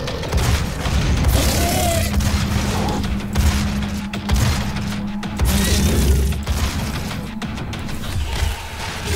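Rapid gunfire and heavy booming blasts from the shooter game Doom (2016), dense and continuous with explosive impacts throughout, loud and close with no talking.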